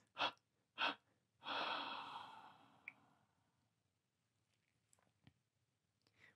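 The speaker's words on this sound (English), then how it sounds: "3 exhales now from that point." Three deep exhales during a guided meditation, each a close, breathy whoosh: two short ones in quick succession, then a longer, slower breath out that trails off into quiet, followed by a few faint clicks.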